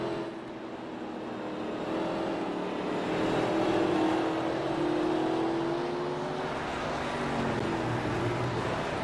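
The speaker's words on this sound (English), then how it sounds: "Sounds like they're hitting the rev chip there just before they start braking going into 1" Race car engines in a video game at Martinsville Speedway, hitting the rev limiter before braking into turn one: a steady, loud, full-bodied engine drone that swells and eases with no break.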